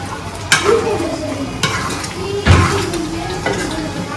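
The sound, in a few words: stirring stuffed brinjal curry with gravy in a pan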